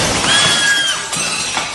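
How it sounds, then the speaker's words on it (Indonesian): An electric taxi rolling backward without a driver smashes into a restaurant's glass front, and the glass shatters loudly, with a sustained crash and tinkling debris filling the moment. "Akibat hantaman cukup keras, kaca hancur berantakan."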